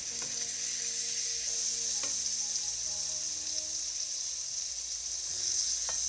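A burger patty for a jalapeño burger sizzles steadily in a pan after being flipped, a bright continuous hiss with a few faint clicks and a low hum beneath; nobody talks.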